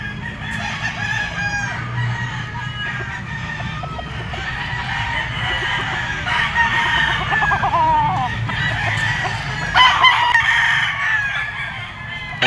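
A rooster, among mature gamefowl at a grotto, crows loudly several times over a steady din of other clucking and crowing birds close by.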